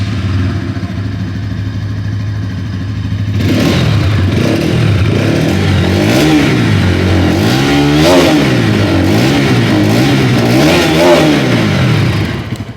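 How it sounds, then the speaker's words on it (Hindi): A 2022 Bajaj Pulsar NS200 motorcycle with an underbelly exhaust idles with a low steady rumble, then its exhaust note rises and falls through several throttle revs, loud and close. "अभी मैं इंजन को ऑन करके आप लोग को इसकी जो एग्जॉस्ट नोट है वो भी सुना दूँ"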